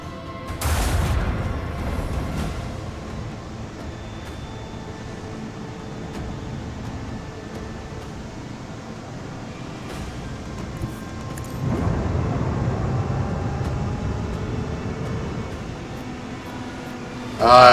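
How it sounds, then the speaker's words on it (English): Torpedo launches in the Rogue Trader video game, heard as two deep booming rumbles, one at the start and a longer one later, over a steady low mechanical hum. "Torpedoes out."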